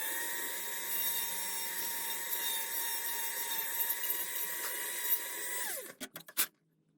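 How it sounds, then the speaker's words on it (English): A small high-pitched drill bores a hole into a plastic model starship part, a steady thin whine running several seconds up close, then spinning down and ending with a few clicks and taps. "Now I'm just got to drill a hole."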